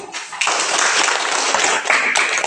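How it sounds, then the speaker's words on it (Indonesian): A class claps for group 3 after their presentation on population dynamics in Europe, a dense burst of many hands starting quickly and continuing steadily, fairly loud and close. "Kita beri tepuk tangan dulu"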